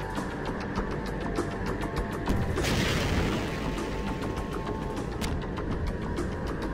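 Rocket explosions in the video game Half-Life 2 boom over a steady, dense backdrop of gunfire and rumbling noise, with one bigger blast standing out near the middle and no one talking.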